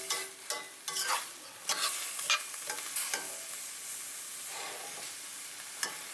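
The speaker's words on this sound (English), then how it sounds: "Keep stirring to coat all the bitter melon with the vinegar." Bitter melon is stirred in boiling vinegar in a pan, giving a steady sizzle and hiss broken by repeated scraping and clinking strokes of the spoon against the pan.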